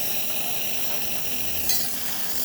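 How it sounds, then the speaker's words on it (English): Steam hisses strongly and continuously from the steam wand of a freshly serviced Profitec espresso machine, a close, steady high rush with a brief louder surge near the end and no talk. "Let's check the steam pressure here."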